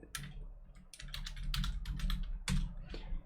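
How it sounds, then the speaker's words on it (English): Keys clatter in quick irregular bursts as a search phrase is typed on a computer keyboard, close and fairly loud, with short pauses between runs of keystrokes and no voices. "Let's just type that in."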